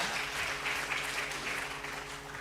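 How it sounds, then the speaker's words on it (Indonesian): An audience at an academic Pancasila forum applauds the paper presenters, a dense continuous clapping heard alone, fairly distant and even, over a faint hum. "tepuk tangan untuk pemakalah yang ada di belakang ini ya"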